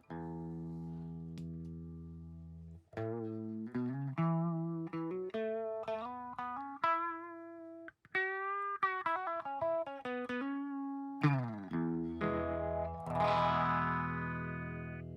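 An electric guitar runs through an effects pedal, warm and slightly distorted, with sustained notes, quick picked phrases and a brighter strummed chord near the end.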